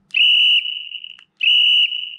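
A Rockbro electric bicycle horn switched to its alternate tone sounds two loud, steady high-pitched whistle-like blasts, each about half a second at full strength and then held a little softer, with a short gap between them.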